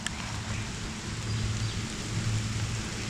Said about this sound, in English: It's starting to rain a lot more